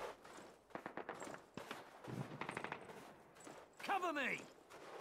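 Automatic weapon fire in the Call of Duty British campaign at a World War II V-2 rocket site: several rapid bursts of shots rattling in quick succession, with game noise and a voice near the end.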